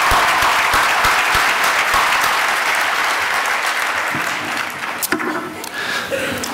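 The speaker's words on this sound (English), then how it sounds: "Let's give them a round of applause." A large audience at a college annual meeting gives a sustained round of applause, loud and dense at first, then thinning toward the end with a few scattered final claps.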